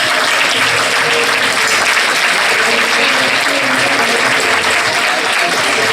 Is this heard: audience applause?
yes